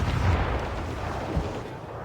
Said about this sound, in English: Cannons are working